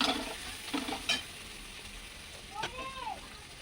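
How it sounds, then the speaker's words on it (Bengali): A spice paste of ginger, cumin and green chili with onion and garlic frying in a pan, with a few scraping stirs early on over a soft, steady sizzle, and a voice speaking briefly. "মশলাটাকে ভালো করে ভেজে নিতে হবে।"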